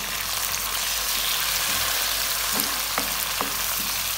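Onions with garlic and ginger paste sizzling loudly in a pot for tarka daal chana as tomatoes go in, a dense continuous fry with a few soft stirring knocks.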